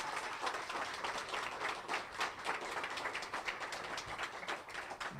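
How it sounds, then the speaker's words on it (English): A round of applause from the audience at a Mundy Township grant announcement, steady dense clapping that holds evenly throughout, fairly quiet and distant. "Let's give them a round of applause."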